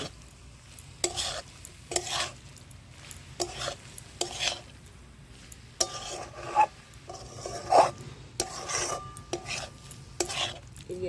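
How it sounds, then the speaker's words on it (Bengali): A spoon repeatedly scrapes and clinks against a pot while fried spices are mixed into amla pickle, rhythmic stirring strokes over a faint background sizzle. "আমি সেই ভেজে রাখা মশলাটাকে এর মধ্যে দিয়ে দিচ্ছি মিশিয়ে নিচ্ছি"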